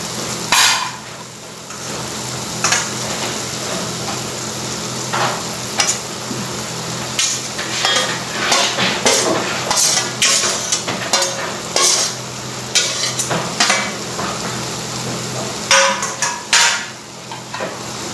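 Spoon stirring a sizzling pan of banana flower vegetable just after grated coconut goes in, with repeated scraping knocks over a steady frying hiss.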